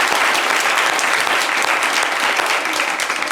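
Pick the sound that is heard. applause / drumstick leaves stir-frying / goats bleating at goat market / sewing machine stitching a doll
applause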